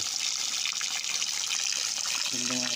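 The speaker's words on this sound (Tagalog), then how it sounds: "Meron din tubig na lumalabas." Cold spring water pours steadily from a natural spring beside a river on a rural farm lot, a constant close gush and trickle that fills the whole moment, with a brief hum near the end.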